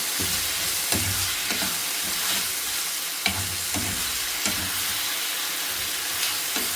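Beef keema with garam masala fries in a pan under a steady loud sizzle and hiss, broken by regular scraping stirs of a spatula against the metal, with no talking.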